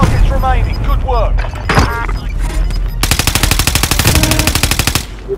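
Hostile automatic gunfire in a video game: a long, loud, rapid machine-gun burst rattles steadily for a couple of seconds after a voice speaks over game sounds at the start.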